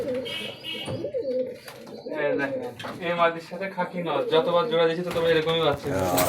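Rolling pigeons coo in low, rounded calls under almost continuous nearby talking by people, with the birds' voices mixed into the chatter throughout.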